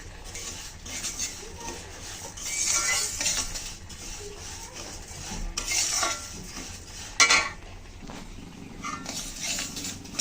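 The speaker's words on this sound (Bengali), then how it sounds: "ডালগুলো কিন্তু আমি কড়াইতে দিয়ে দিয়েছি একটু ভেজে নিচ্ছি" Mung dal roasts in a wok while being stirred, giving repeated scraping and rustling strokes with occasional metallic clinks of a utensil against the pan, close and without talk.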